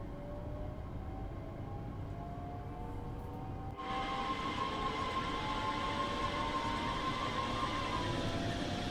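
A train runs along a high-speed line in Train Sim World 2, giving a steady low rumble with a faint tonal whine that brightens and grows louder partway through, continuous and without talk.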